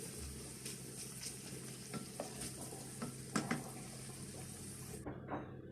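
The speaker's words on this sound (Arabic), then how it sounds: "كيف ما كتشوفوا البنات كنحاولوا نشحروا البصله ديالنا مزيان على نار هادئه باش ما تحرقش" Onions fry slowly in a pan over low heat, a soft steady sizzle with occasional stirring scrapes and clinks, quiet and close, ending abruptly.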